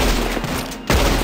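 Gunfire in the Western video game Red Dead Redemption 2 Online, a quick burst of loud shots crackling close together, with a brief gap before another blast.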